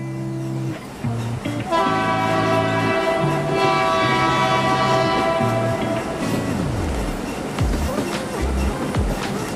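A police train's horn in Indian Police Train Simulator blares in a long steady blast for several seconds over rumbling rail noise, then fades as the engine keeps running.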